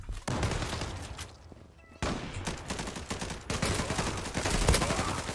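Rapid automatic gunfire from a weapon in the online shooter Zula rattles loudly in sustained bursts, pausing briefly before resuming in dense volleys.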